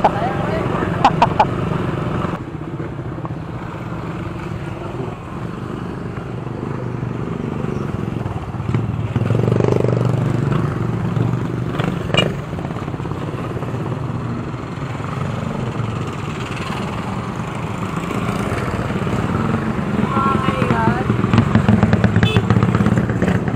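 A motorcycle engine revs and drones steadily throughout a group short ride, loud and close, with clattering thumps and voices talking over the engine noise.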